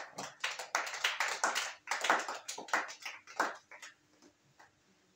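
A church congregation claps together to acclaim Jesus Christ in a quick, irregular burst of many hands that fades over the last second, moderately near and without voices.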